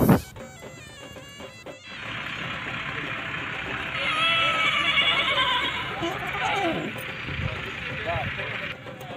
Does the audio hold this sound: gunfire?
no